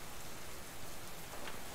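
Steady rain falls in the survival video game Subsistence, a dense, even hiss of drops on surfaces that continues without pause through the moment.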